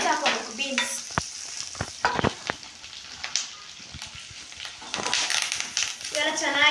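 Beans and curry leaves fry in a pan with crackling sizzle and repeated sharp stirring knocks, while a voice speaks briefly at the start and again at the end.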